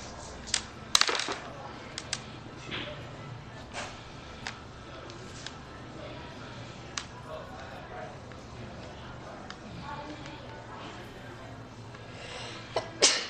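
A single sharp sneeze bursts out near the start during a Star Wars Edge of the Empire tabletop game session, over a quiet room with a low steady hum, followed by faint scattered clicks and shuffling.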